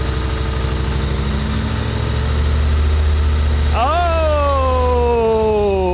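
A 1985 Chevy Corvette rescued from a Florida swamp idles roughly, then the throttle is pressed and the engine climbs in a sweeping rev that holds high and steady, close and loud, with a voice speaking over the idle.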